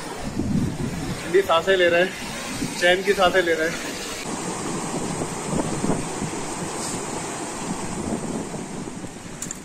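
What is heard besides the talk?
mountain river flowing on the Kedar Tal trek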